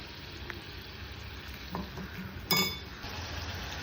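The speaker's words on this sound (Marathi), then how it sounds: "कांदा, कढीपत्ता आणि मिरच्या घातलेल्या आहेत. आता त्याला गोल्डन होईपर्यंत परतवायचं आहे." Onion, curry leaves and green chillies sautéing in a pan for a Maharashtrian pithla, a steady soft sizzle with occasional clinks and stirring scrapes of a utensil against the pan, one sharper clatter midway.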